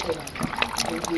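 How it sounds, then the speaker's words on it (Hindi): Water trickles and splashes from a village spring spout, a continuous uneven burble with scattered droplet splats, with a voice talking over it close by. "ये देखिए मेरा गांव का धारा, ऐसा भी था पानी पीने का तरीका हमारा ये रहा धारे का।"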